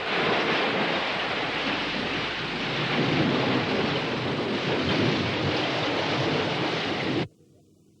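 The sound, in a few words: storm with waves and wind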